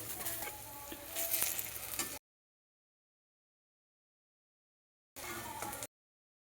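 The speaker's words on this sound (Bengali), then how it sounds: "হালকা আঁচে ভেজে নিচ্ছি" Pieces of okra or similar food fry gently in a pan over low heat and are turned one by one, a soft sizzle with light stirring clatter, cut by a long silent gap before a brief return.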